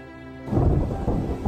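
Heavy rain suddenly pours down with a deep rumble of thunder, starting after a quiet moment and then staying loud and dense, a downpour that begins all at once.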